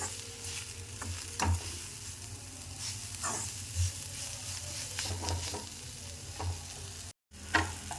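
Radish leaves sizzle in a hot pan while a spatula stirs them, producing a continuous frying hiss punctuated by periodic scraping strokes and soft knocks against the pan.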